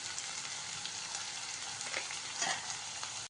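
Ginger and long-sliced onion sautéing in a pan give a steady, fairly faint sizzle throughout, with a few soft stirring clicks and no voices.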